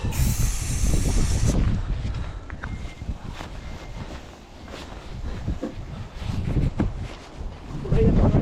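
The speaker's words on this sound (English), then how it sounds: "get the shit off and respray it" A spray can is used to respray an electrical contact on a CAT 335 excavator, giving a short, close hissing burst at the start, followed by outdoor wind noise and a person talking.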